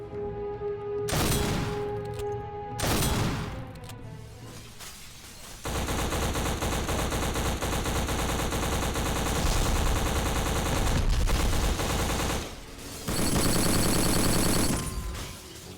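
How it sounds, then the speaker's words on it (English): Gunfire in the PS2-era first-person shooter Black: a few heavy single shots, then long sustained bursts of automatic fire, loud and dense with short pauses between volleys. "Each of the guns sound and feel like deadly weapons."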